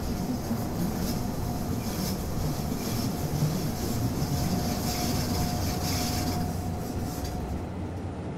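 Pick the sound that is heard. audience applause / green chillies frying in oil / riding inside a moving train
riding inside a moving train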